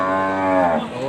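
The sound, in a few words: cattle mooing at a livestock market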